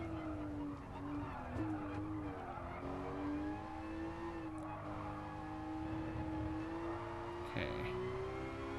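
Race car engine droning steadily in Gran Turismo Sport, with slight pitch dips and rises, occasional faint tire noise, moderately quiet, and a voice speaking briefly.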